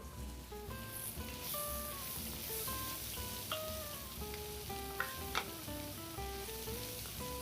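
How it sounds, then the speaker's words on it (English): Aubergine pieces fry in oil in a pan, a soft, steady sizzle with occasional light clinks and stirring scrapes, fairly quiet and heard alone. "So you want to cook your aubergines a while before you actually add the garlic and the spices."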